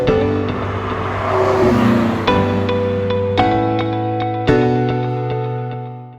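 A Ferrari 360 Modena engine revs in several sharp blips, each throttle stab rising then settling back to a steady idle, loud and close on a cold day in Ontario, Canada.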